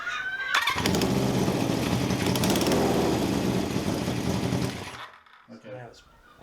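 A 1978 cafe scrambler motorcycle engine runs loud and rough with a loose, blowing exhaust, a rapid chattering roar that cuts off after about five seconds, followed by voices talking.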